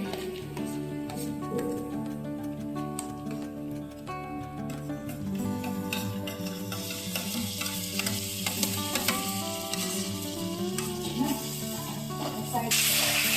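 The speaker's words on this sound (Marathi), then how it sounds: "चांगलं परतून घ्यायचंय आता याच्यात भरीत टाकायचं आहे" Eggplant bharit being sautéed in a pan in the Khandeshi style, giving a steady sizzle and frying hiss with stirring scrapes throughout, loud and continuous over background music or noise.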